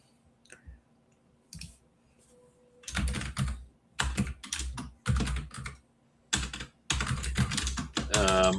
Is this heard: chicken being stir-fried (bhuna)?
no